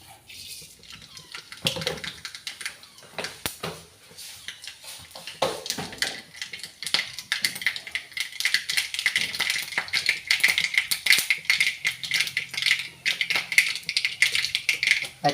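Mustard seeds dropped into hot oil in a pan start to crackle, building from a few scattered pops into a dense, steady spluttering sizzle that continues to the end.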